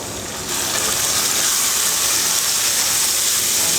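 Chopped tomatoes dropped into a hot pan of sautéed onions while cooking karuvadu thokku, dried fish relish, setting off a sudden loud, steady hissing sizzle that carries on without pause.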